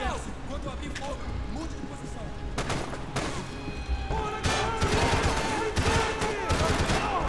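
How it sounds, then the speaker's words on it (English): Gunfire in the video game Max Payne 3 comes in sharp single shots and rapid bursts, growing denser toward the end. It is mixed with game ambience, and someone talks over it. "Ah, people shooting at me!"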